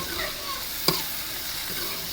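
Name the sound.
frying ginger and green chili tempering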